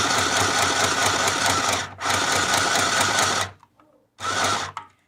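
An Easy Home 19-stitch sewing machine stitches in steady rapid bursts, running loud and close for about two seconds, pausing briefly, running again, then stopping before a short final burst.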